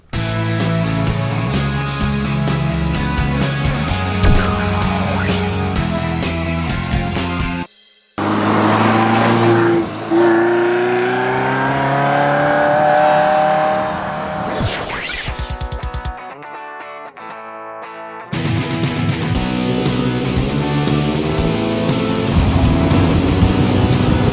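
A 1967 Alfa Romeo GTV race car fitted with a 2-liter engine, in the Forza video game, revs and climbs through gears. Loud rising and falling engine tones are broken by short silent gaps and one abrupt swoop.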